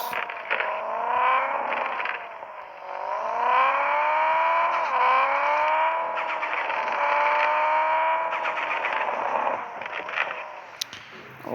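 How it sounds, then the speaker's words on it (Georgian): A car engine hums steadily up close while being parked, its tone sliding up and down in pitch as the revs rise and ease, with no voices over it. "დავაპარკინგებ მანქანას"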